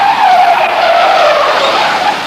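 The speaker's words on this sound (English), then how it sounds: "an out-of-control pickup truck nearly crashes into spectators" A runaway pickup truck skids at a Saturday night race spot in Sylmar, tires squealing loudly and continuously with a steady high screech throughout.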